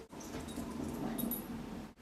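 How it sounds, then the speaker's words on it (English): A pet dog moves around inside a house, giving a steady, soft whimpering whine at close range for about two seconds, with no talking over it. "that's my dog running around the house"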